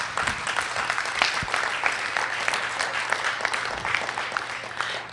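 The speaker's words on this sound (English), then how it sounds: "Let's give them another round of applause," Audience applause at a race relations forum, steady broadband clapping filling the room for about five seconds, with a few sharper claps and a faint voice underneath.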